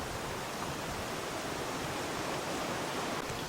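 A river flows steadily along the bank near the remains of an abandoned ghost town in Lancaster, Pennsylvania, making a constant broadband rushing wash with no voices.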